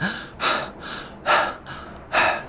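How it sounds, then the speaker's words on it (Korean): Heavy, rhythmic panting after intense exercise, with three loud broadband breath bursts alternating with quieter breaths, close up and without other voices. "이 정도로 이제 숨을 헐떡거리는 거를"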